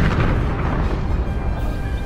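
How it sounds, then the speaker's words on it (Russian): A car goes off a cliff and explodes with its passengers in the video game Mafia, a loud, sustained low roar of fire and blast that fills the whole stretch without any talk. "его авто падает с обрыва и взрывается вместе с пассажирами"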